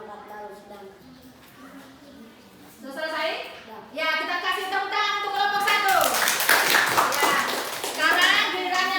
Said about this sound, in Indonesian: Ya, kita kasih tepuk tangan untuk kelompok 1.